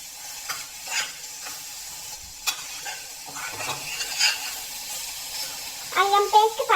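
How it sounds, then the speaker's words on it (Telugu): Ginger paste and onions fry in a pan for bagara rice, with a soft sizzle broken by intermittent scraping stirs at close range and a voice briefly speaking near the end. "అల్లం పేస్ట్ కూడా పచ్చి వాసన అనేది పోయేంత వరకు ఫ్రై చేసుకోవాలన్నమాట"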